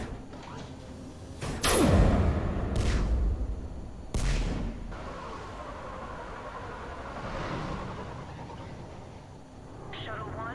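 Heavy gunfire blasts open a perimeter in the Mass Effect 3 video game, with loud booming shots and a sweeping whoosh early on, then a second sharp blast followed by rumbling battle noise while voices speak over it.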